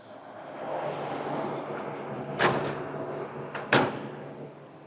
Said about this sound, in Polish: musimy jeszcze otworzyć drzwi z boku maszyny